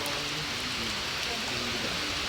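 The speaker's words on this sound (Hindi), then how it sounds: "इतनी तेज बारिश तो गई सुबह भी नहीं थी जितनी तेज अभी हो गई" Heavy rain pours down outdoors at a cricket practice spot, a dense, steady hiss of water with no letup and no voices.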